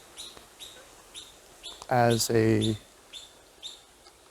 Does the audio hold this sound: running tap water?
no